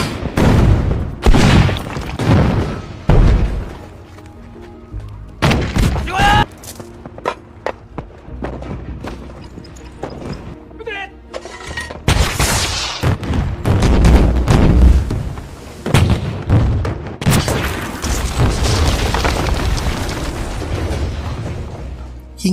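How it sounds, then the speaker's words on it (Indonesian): A war film battle erupts with dense gunfire and booming grenade explosions, loud overlapping bursts and blasts rolling on continuously, with no speech over them. "Para tentara Cina itu pun tak henti-hentinya dihujani ratusan peluru serta granat dari berbagai arah."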